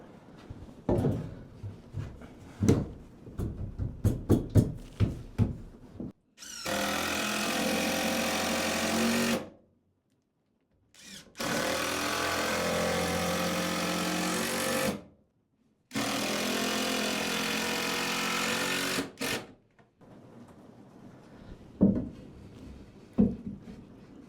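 Power saw cutting a 45-degree angle, three long steady whining cuts of several seconds each separated by short silences, preceded by a few sharp knocks and handling clatter.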